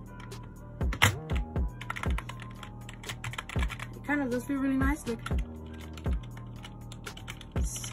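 Keys on an NPK10 keyboard are struck in quick, uneven bursts, producing crisp close clacks, while a person talks over part of the typing.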